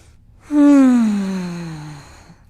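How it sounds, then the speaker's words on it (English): A yoga class breathing during a flow session: one long, audible voiced exhale like a sigh, close and fairly loud, sliding down in pitch and fading over about a second and a half. "We're in our final round of breath here."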